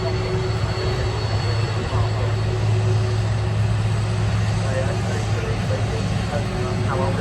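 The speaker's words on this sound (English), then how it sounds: "Here we go, a 35-year-old 757. Very, very old plane." Jet2 Boeing 757 airliner, 35 years old, heard as a steady, loud roar of engine noise with a low hum, continuous throughout with no clear rise or fall, likely near an airport runway at Manchester.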